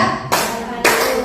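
A group of teachers at a school training session claps in unison twice on cue, two loud, sharp bursts of many hands about half a second apart, close by.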